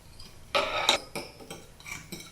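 A utensil scrapes and clinks against a bowl while quiche Lorraine ingredients are stirred together: a few short, close knocks and scrapes spaced irregularly over a quiet background.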